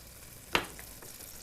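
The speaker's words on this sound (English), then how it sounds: "in the same skillet, we melt some butter and stir in some lemon juice" Butter melts with lemon juice stirred into a skillet, giving a faint steady sizzle with one sharp utensil clink near the start and soft scraping afterward, no voices.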